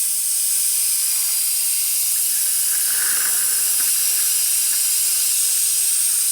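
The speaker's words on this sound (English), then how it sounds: "what I'm going to do is just suck out the fluid from the bottom one" A suction pump draws brake fluid out of a Honda Goldwing motorcycle's brake reservoir, giving a steady, loud airy hiss with faint gurgling that runs unbroken and close throughout.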